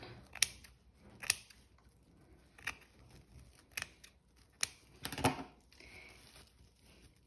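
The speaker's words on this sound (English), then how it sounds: "is just cut the hair donut" Scissors snipping through a hair donut: a series of sharp, separate cuts spaced irregularly, close and fairly quiet in an otherwise still room.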